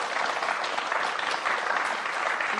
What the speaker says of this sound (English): So please give her a round of applause for that.